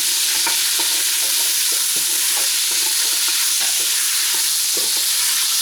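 Lamb pieces sizzling loudly in hot oil for Moroccan harira, a constant crackling hiss with occasional stirring knocks.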